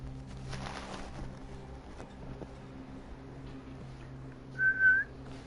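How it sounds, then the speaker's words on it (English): A person whistles a short, clear two-part tone near the end of a quiet stretch with a low hum in the background. "There's several different ways to whistle."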